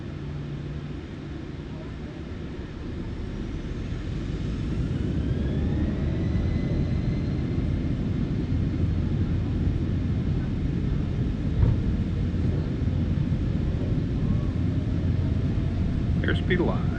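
An airliner starts its takeoff roll at Innsbruck in Microsoft Flight Simulator 2020 in rough weather. A steady low engine rumble builds in loudness over the first seconds and then holds, while radio voices talk over it.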